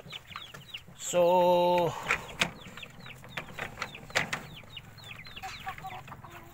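Large heritage breed chickens clucking and calling around a farm pen, with a brief loud harmonic squawk or crow near the start followed by scattered clucks amid a lively flock.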